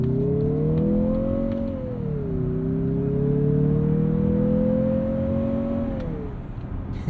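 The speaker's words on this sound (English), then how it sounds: "You get a little bit of turbo blow-off noise there." A 2023 Mazda CX-50 with a turbocharged 2.5-litre engine and six-speed automatic revs up and holds a steady drone, then eases off with a brief turbo blow-off at the end, heard alone.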